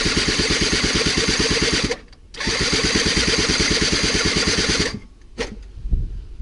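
A scooter engine is cranked over and over in two long bursts of rapid, rhythmic chugging, loud and close, with short pauses between attempts and no catch into running.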